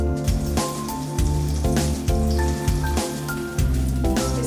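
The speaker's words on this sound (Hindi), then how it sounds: "हल्की आग पे से फ्राई करेंगे।" Chicken patties fry on a low flame with a steady crackling sizzle, like light rain, under a background with a rhythmic tonal pulse.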